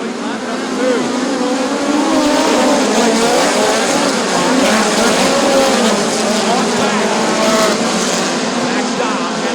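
Midget race cars in a POWRi National Midget League event at Bubba Raceway Park, a dirt track, run side by side in a steady loud engine roar lasting throughout, with a commentator talking over it.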